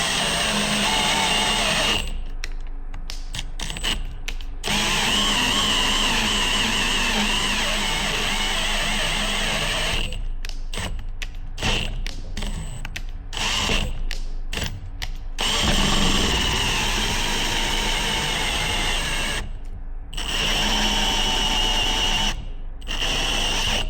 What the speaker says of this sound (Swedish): Så här smidigt har det aldrig varit att planförsänka för mig.